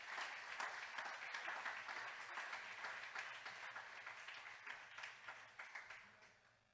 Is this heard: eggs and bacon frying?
no